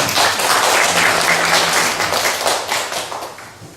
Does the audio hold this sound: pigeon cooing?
no